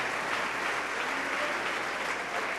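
A church congregation gives a steady round of applause, dense clapping heard at moderate level throughout with no voices on top.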